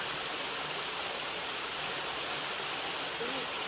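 Steady broadband rush of falling water from a waterfall near Elsecar Reservoir in Barnsley, constant and fairly close, with no breaks across the short stretch.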